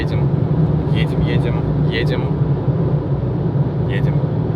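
A car drives a long, monotonous road through the Namib desert, its steady low rumble and road noise continuous from inside the cabin, with faint brief voices over the drone.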